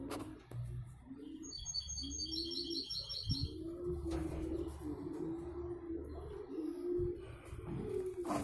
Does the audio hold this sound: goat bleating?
no